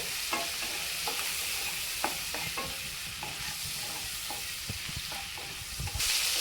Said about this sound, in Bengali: এবার আমি চিংড়ি মাছটা একটু হালকা করে ভেজে নেব